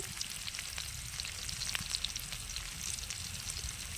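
Onions and a few whole cumin seeds fry in mustard oil over a clay stove, a steady close sizzle with crackling pops throughout and a low background hum.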